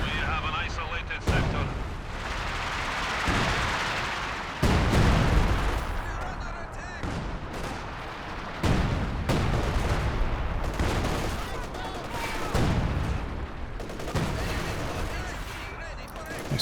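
A Company of Heroes 2 artillery barrage pounds the battlefield with repeated heavy booming impacts and rumbling blasts amid gunfire, loud and dense throughout, while a commentator talks over it.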